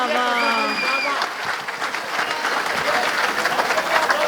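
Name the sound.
audience applause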